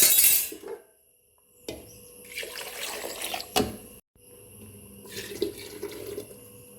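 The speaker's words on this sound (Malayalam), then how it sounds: "ഈ കടലയിലേക്ക് ഇത് ഒഴിച്ചു കൊടുക്കുക." Ground masala paste pours into a pot of cooking chickpeas in a few wet, splashing bursts with short pauses between, close by and fairly loud, with a glassy clink partway through.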